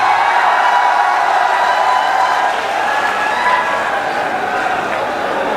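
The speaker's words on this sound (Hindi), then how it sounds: "क्या आप लोग सब जोरदार तालियों से उनका स्वागत कर सकते हैं?" A large crowd at a political gathering cheers and applauds to welcome Akhilesh Yadav, former Chief Minister of Uttar Pradesh, making a dense, steady roar of clapping and voices that stays loud and close throughout.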